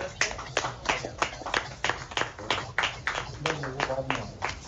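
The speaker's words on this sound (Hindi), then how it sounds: "तालियां बजती रहना चाहिए।" Clapping at a state-level teacher award ceremony: a steady series of distinct hand claps rings out while people keep talking over it.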